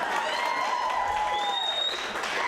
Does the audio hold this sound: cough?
no